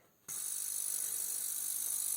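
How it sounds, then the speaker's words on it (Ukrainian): Cooling fan of a Victron Energy 1600 inverter kicking in under load, an abrupt start into a loud, steady high whir that holds without a break. "Спрацював вентилятор, запустився і пішов у захист"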